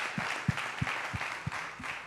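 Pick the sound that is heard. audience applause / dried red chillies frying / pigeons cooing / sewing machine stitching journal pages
audience applause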